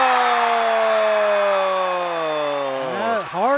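A long electronic horn sounds at the end of a high school basketball game between Kellyville and Beggs, loud and sustained for about three seconds before cutting off, with no talk over it.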